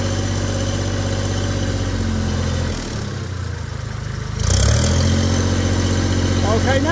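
A 2007 Kubota L39 tractor engine runs steadily close by, its throttle dipping briefly mid-clip and then rising again to a louder, continuous idle-to-medium drone.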